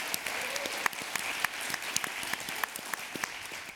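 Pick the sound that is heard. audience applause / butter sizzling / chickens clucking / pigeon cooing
audience applause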